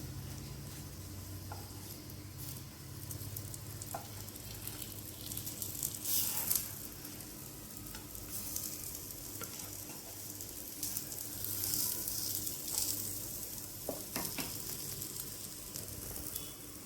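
Egg snacks made with wheat flour sizzle and crackle steadily in oil on a dosa pan, a soft continuous frying hiss with occasional small pops and stirring sounds, with no voices.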